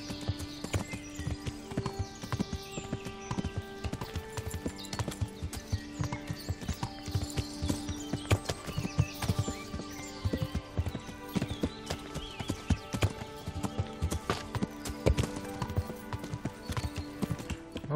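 A horse named Pebbles gallops in Kingdom Come: Deliverance, its hooves clip-clopping in a quick, steady rhythm over a soft musical backdrop for the whole stretch, with no talking.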